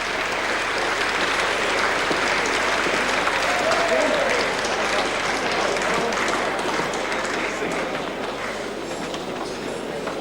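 A ballroom crowd at the Adelaide City soccer club's 50th anniversary ball gives a long, dense round of applause as people leave the stage. The clapping is sustained, loud and even for the whole stretch.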